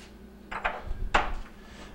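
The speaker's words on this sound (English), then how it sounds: "I'm going to remove our burner caps, and I'm just going to set them on the counter in the fashion that they were on the stove" Two light metallic clinks come as Whirlpool stove burner caps are set down one after another on a kitchen counter, close and fairly soft.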